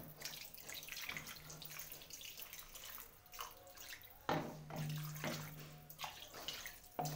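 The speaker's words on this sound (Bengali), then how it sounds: "এবারে জল দেব।" Water poured from a vessel into a cooking pot of marinated, spiced kohlrabi on a home stove, a steady splashing pour with a few louder surges, close and alone with no talking.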